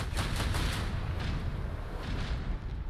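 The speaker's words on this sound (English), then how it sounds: "Starboard batteries engage" Starboard ship batteries in the Rogue Trader space-combat game fire a dense, continuous barrage of booming blasts, loud and rumbling throughout with no voices.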